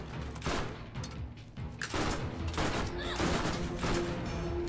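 Gunfire in the video game Borderlands, rapid overlapping bursts and shots that run on continuously at close range, with faint voices underneath.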